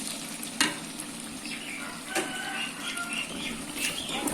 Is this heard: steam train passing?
no